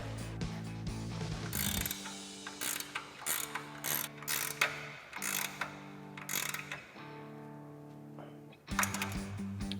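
A ratchet tightens drag link bolts on a Jeep Wrangler JL, clicking in repeated bursts of rapid pawl ticks separated by short pauses, close and fairly loud.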